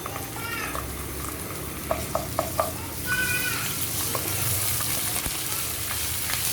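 Ginger and garlic paste fries in a pan with a steady close sizzle, broken by a few sharp utensil taps and a cat meowing twice in the background.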